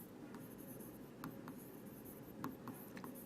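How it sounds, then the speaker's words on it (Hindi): Chalk or marker writing a definition on a classroom board, soft scratchy strokes with a few sharper taps, faint and close, over a low background hum with no talking. "तो पहले परिभाषा लिखते हैं।"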